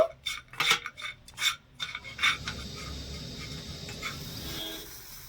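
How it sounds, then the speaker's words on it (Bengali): Jaggery melts in a pan while a spoon scrapes and knocks against the metal in quick clattering strokes, then settles into a soft, low bubbling hiss. "নেড়ে ছেড়ে খুব সুন্দর করে গুড়টা গলিয়ে নেব"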